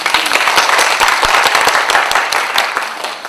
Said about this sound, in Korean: 다시 한번 발표해 주신 윤영남 원장님께 박수 보내드립니다